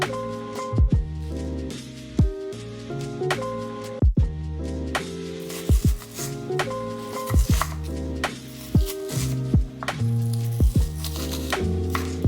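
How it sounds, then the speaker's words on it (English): A knife strikes a board in irregular chopping thuds while soft music plays underneath. "finish chopping up this for dinner"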